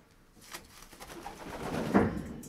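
A racing pigeon, a three-year-old of the Łepuch line in a breeding loft, gives a soft low coo that builds toward the end, close by over faint rustling.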